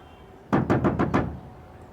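Five firm, evenly spaced knocks land on a door in quick succession, loud and close, after a moment of near silence, then the room falls quiet again.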